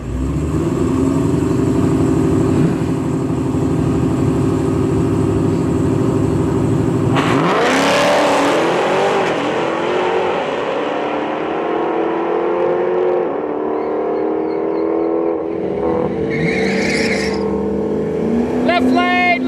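Drag race cars at Mopars at the Rock, in a heads-up combo race round, hold a loud engine drone before a sharp launch, then revs climb and fade into the distance while a crowd murmurs.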